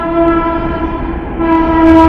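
A train sounds a loud, sustained horn over a low rolling rumble, one long tone held close by throughout.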